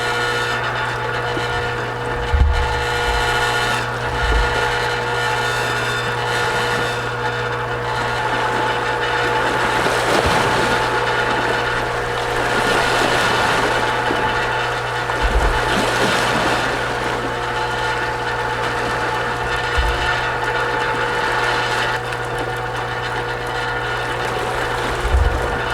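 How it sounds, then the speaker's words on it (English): Metal rail system of a boat launch on rocky terrain rattling and jangling with no load on it, a continuous mechanical hum with a steady low tone and scattered clanks and knocks over about twenty-five seconds. "The rail system makes a lot more noise when there's no weight on it. That's why it seems to be jingling and jangling around."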